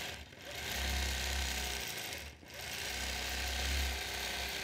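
Domestic sewing machine stitching quilted fan arcs, a steady low mechanical hum with a brief pause partway through, fairly close with no voices.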